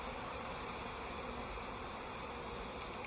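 A honeybee colony in an open hive, one whose queen has an amputated wing, gives a steady, dense buzzing hum that holds evenly throughout at a low level, with no talk.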